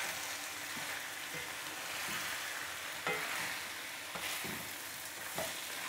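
Chicken vegetable jalfrezi with ground black pepper is stirred in a pan. A soft, steady frying hiss runs throughout, and occasional spoon scrapes and taps sound close by.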